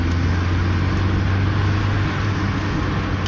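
A car engine held at a high steady rev around 3000 rpm during a fuel cut-off system test, a loud continuous drone with a strong low hum throughout and no pauses.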